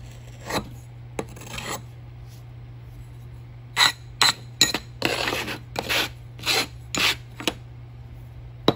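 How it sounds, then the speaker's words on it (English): A tool scrapes excess sand off a sand casting mold, a series of close, gritty rasping strokes in short bursts, sparse at first, then quicker and more regular toward the end. "Scrape it off."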